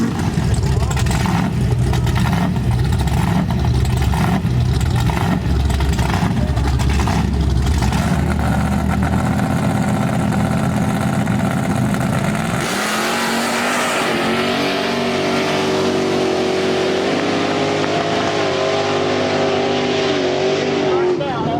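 A drag race car launches at a no-prep street-style race at Little River Dragway, a loud sustained engine roar that rises in pitch as it pulls away, with voices talking over it.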